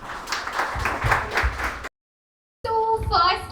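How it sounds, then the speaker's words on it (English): An audience bursts into applause at a live talk event, a dense wash of clapping for nearly two seconds, then a sudden silence before a voice begins speaking. "Can we have a round of applause, please?"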